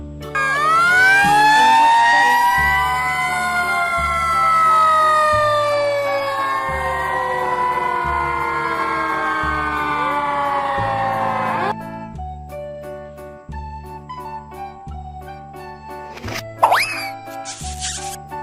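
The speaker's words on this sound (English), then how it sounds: "Fire truck." A fire truck siren wails loudly with swooping, overlapping tones, then a steady two-tone pattern continues under a low pulsing horn, ending in a few sharp bursts.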